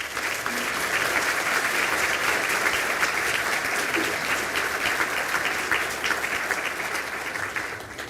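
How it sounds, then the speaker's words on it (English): Sustained applause from a seated graduation crowd at a spring conferring ceremony in Galway, a dense, steady wash of clapping that holds at full strength for about eight seconds before easing slightly at the end. "I ask the graduates to stand for a round of applause."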